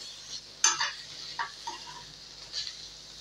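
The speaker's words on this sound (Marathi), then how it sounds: "हे पहा, या फक्त आता परतून घ्यायचं आहे।" Taro (arbi) pieces sautéed in a pan, soft background sizzle broken by a few scraping, clinking stirs of a utensil against the pan, quiet and close.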